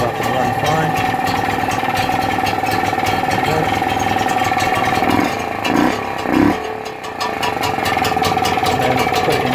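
A Vire 12hp marine inboard engine running at idle, a loud steady mechanical chug with a few brief dips and surges midway, close by and continuing throughout without talk over it.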